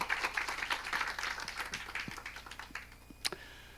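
Applause from a church congregation, a burst of scattered clapping that thins and fades over a few seconds, moderately distant, with no voices over it.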